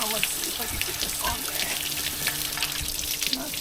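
Water rushes steadily through a banjo garden hose fitting on a pressure washer buffer tank setup, a continuous close hiss and splash that holds for several seconds.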